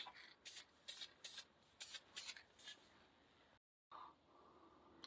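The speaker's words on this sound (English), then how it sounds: "I'm going to go ahead and get the mist coat on it" Several short hissing bursts of spray paint laid down as a light mist coat on a Glock 19 holster, close up, with pauses between passes and a brief silent gap near the end.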